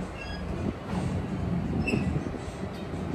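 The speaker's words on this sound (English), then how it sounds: "This is a Manhattan bound 7 local train." A Manhattan-bound 7 local subway train at the 111 Street elevated station, heard as a soft, steady rumble of rolling cars with faint wheel squeals and clicks, without speech.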